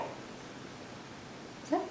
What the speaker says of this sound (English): I don't know why Ghost is barking.